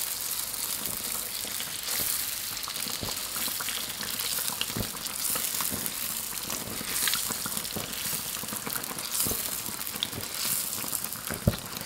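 Youtiao dough sticks deep-fry in a wok of hot oil, a dense, continuous sizzle with scattered crackles and occasional bubbling bursts, close and fairly loud with no voices.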